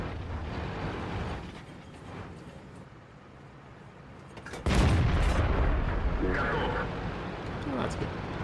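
Artillery fire in a video game match: a sudden heavy boom hits midway and leaves a loud, rumbling wash that lingers, after a quieter stretch of background game noise.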